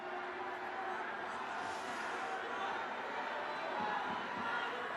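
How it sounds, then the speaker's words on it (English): Large crowd at a Trump victory rally in Orlando, Florida, a steady broad murmur of thousands of voices with scattered cheers and chatter, continuous and fairly distant throughout. "Man, that's a big crowd."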